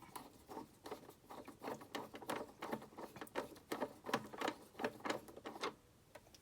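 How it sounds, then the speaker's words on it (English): Screwdriver working the shaver socket cover on a 1980s Dimplex FXS20 wall-mounted fan heater, a series of quiet irregular scraping clicks and ticks, close but faint, with no talk. "I think I'll put my screwdriver in it"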